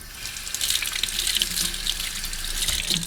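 Tap water runs steadily over a nitro engine part being rinsed and washed with soap, a close, continuous splashing hiss that shifts slightly as the part moves under the stream.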